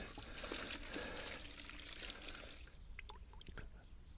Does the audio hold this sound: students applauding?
no